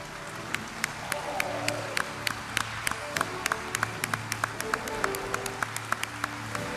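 Auditorium applause at an education awards ceremony, a moderate spread of clapping with crisp individual claps over a low steady hum, fairly quiet and continuous throughout.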